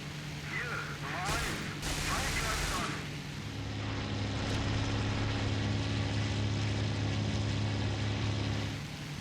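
In the flight game IL-2 Great Battles, the rear gunner of a Ju 87 Stuka fires repeated bursts over the constant drone of the propeller engine. The engine hum stays steady and loud throughout while the gunfire crackles on top of it.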